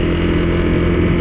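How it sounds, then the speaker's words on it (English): A Honda CRF250L, a light bike with a small engine, runs close up with a loud, steady, buzzing engine drone and no pauses. "it's a light bike with a small motor"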